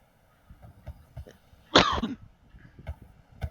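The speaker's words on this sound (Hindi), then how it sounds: "अब थोड़ी खांसी स्टार्ट हो गई।" A person gives one sharp, loud cough amid faint background clatter and small knocks, close to the microphone.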